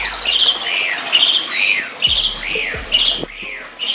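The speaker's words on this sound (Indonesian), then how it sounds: "dengan burung-burung juga." Birds chirp and whistle in a hydroponic garden kept with patin catfish and goldfish, repeated bright rising-and-falling calls close by over a soft ambient background.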